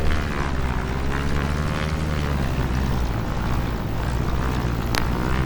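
An XCub light aircraft in flight near Lake County Airport, its propeller engine droning steadily and loudly with constant wind rush throughout, no voices.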